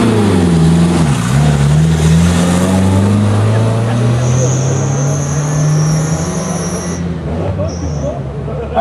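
A historic race car, likely a 200, at a hill climb revs hard with a loud, rising engine note that holds over several seconds before easing off, close to the listener.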